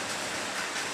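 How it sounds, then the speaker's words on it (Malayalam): Heavy rain falls during a thunderstorm outside a home kitchen, a dense, steady, loud roar of broadband hiss with no break and no voices. "സൗണ്ടില് പറഞ്ഞാലേ കേൾക്കുന്ന മഴ"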